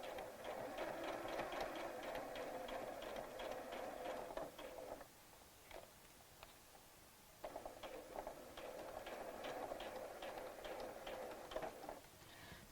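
A domestic sewing machine runs at a small 2.2 stitch length, sewing close to the edge of a tiny doll dress. It whirs in two steady, rapid bursts with a brief quiet pause between them.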